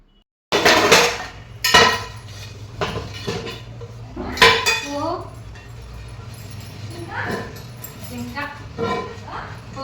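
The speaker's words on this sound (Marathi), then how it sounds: "आणि इथं आता भांडी आवरायला घेतलेली आहेत" Pots and dishes are washed and put away in a home kitchen: metal vessels clatter and clank in irregular bursts, with a dog barking and a person talking now and then.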